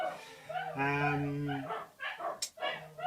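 A dog yips and whimpers in short, high-pitched bursts, fairly close, with a long whining tone in the middle.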